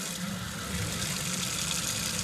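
Water rushes steadily through the cold inlet line of a GASLAND propane tankless water heater, a constant broadband hiss and gush with a low rumble beneath, close and unbroken throughout.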